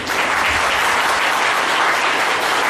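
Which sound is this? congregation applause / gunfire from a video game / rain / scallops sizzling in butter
congregation applause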